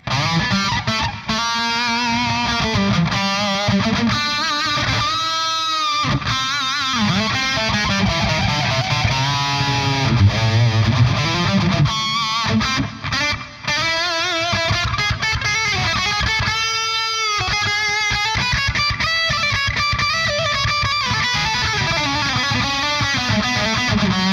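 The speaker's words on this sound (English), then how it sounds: "Let's add some reverb." Heavily distorted electric guitar played through a Two Notes Torpedo CAB M+ with an added reverb effect and a wide reverb wash, loud and continuous, notes ringing and smearing into a spacious tail.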